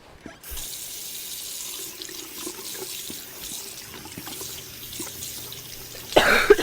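A sink tap runs steadily in the video game Twin Mirror, a continuous close water stream with a louder splash near the end.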